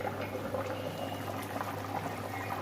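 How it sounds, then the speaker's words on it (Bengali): Cauliflower boiling in a pot of salted hot water, a steady, close bubbling and churning that holds at an even level throughout, with no talking. "এটা কপিটা সেদ্ধ হয়ে যাক"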